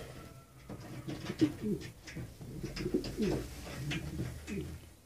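Shakar breed pigeons, black and blue birds, cooing in soft throaty bursts, several overlapping calls close by with a few faint chirps around them.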